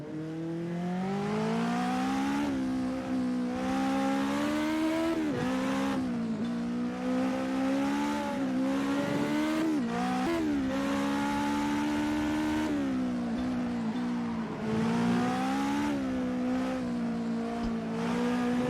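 A 1992 Legend Ford 34 Coupé race car in a video game, its engine droning loudly and steadily with repeated gear shifts and surges of revving. No voices are heard.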